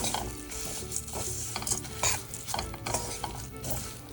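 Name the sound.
stirring flattened rice into melted jaggery in a pan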